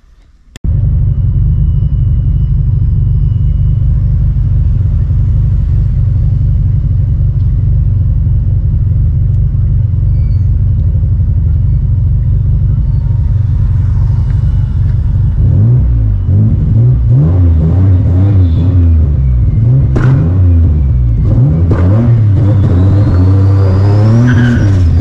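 A boosted Infiniti G35 coupe engine drones steadily and loud from up close, then revs with rising and falling pitch as the turbo spools and whooshes while driving.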